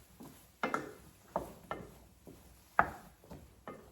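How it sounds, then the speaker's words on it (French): A spoon stirs softened onions and aubergine in a pot for ratatouille, giving a series of soft, scattered wooden knocks and scrapes, fairly quiet, with no talking. "Je mélange"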